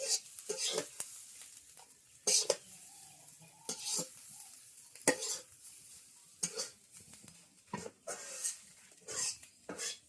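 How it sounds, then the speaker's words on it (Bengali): Garlic and chili fry in hot oil with a faint, steady sizzle, broken repeatedly by sharp clinks and scrapes as a spoon stirs against the pan. "তেলের মাঝে রসুন আর মরিচ দিয়ে দিচ্ছেন"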